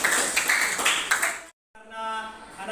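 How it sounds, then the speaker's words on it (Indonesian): A classroom full of students clapping hands together in a dense, lively burst of applause that cuts off abruptly, followed by a voice speaking. "Tepuk tangan dulu Bapak."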